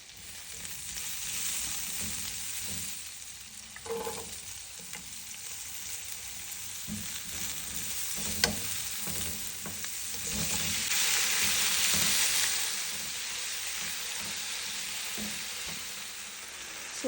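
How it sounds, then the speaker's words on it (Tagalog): Tomato and onion sauté in oil left from frying pork, a continuous close sizzle with occasional spatula stirs and scrapes, growing louder partway through, with no talking. "Dani na to ibutang kay ako ang gisahon ang kamatis ug sibuyas."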